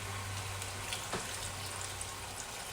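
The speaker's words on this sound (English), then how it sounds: "Now we will add water also" Water pours into a cooking pot for beef caldereta, a quiet, steady rushing splash that runs evenly for a few seconds against a low background hum.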